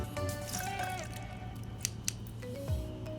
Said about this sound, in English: Let's go ahead and squeeze this lemon